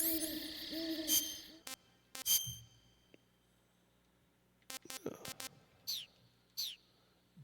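Bird calls from the jungle of the PS2 game Metal Gear Solid 3, where an owl-like hoot and sharp chirps come in short, separated bursts against quiet ambience, with brief game sound effects between them.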